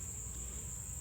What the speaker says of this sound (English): There seems to be quite a few bees up here in the top box.